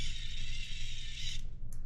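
A screw being driven by hand into a custom leg assembly, giving a brief continuous mechanical grinding and creaking that cuts off and briefly resumes.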